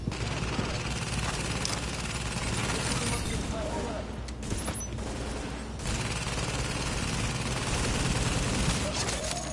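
Sustained turret gunfire rattles on in The Division shooter game, a dense, loud barrage with a brief lull near the middle, under excited talking and shouting.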